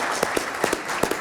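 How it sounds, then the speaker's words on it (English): Audience applause for a bank president, steady dense clapping from a crowd throughout, close and full. "Let's have a nice round of applause to Steve."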